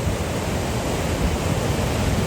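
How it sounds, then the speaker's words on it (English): Waves from a flooding sea break against a jetty in the Wildwoods, a constant dense hiss and rumble of churning water, loud and near, with wind rushing across the microphone and no voices. "But you can see how the water is breaking on the jetty."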